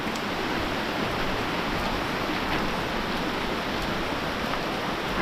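Heavy rain pouring during a storm, a dense, steady broadband wash that stays loud and unbroken throughout with no voices.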